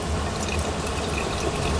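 Water drains from a tankless water heater into a bucket during a flush, a close, steady rushing and splashing with no talk.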